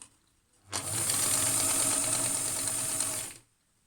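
A sewing machine stitches the edges of a shaped fabric mask, running in one continuous close whirring burst of about three seconds between quiet pauses.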